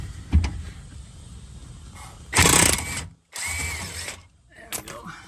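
A power tool runs in two short bursts, loosening a 21 mm nut on the rear shock of a Tesla Model 3. A few metallic clicks and knocks come before and after.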